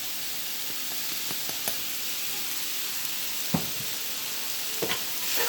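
Cheddar and diced provolone mixed into sliced steak, peppers and onion on a hot pan, a loud continuous sizzle and hiss with scattered scrapes and taps of the spatula.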